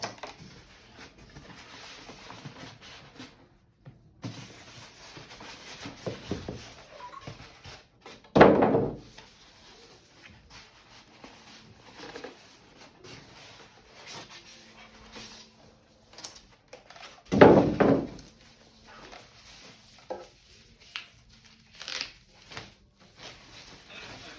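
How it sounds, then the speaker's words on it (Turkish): Scissors slice the security tape on the box of an LG SNH5 4.1 600W soundbar during unboxing: two short, rasping cutting strokes stand out several seconds apart against quiet handling and rustling, with no talking. "güvenlik bandını açmak için makas kullanıyorum"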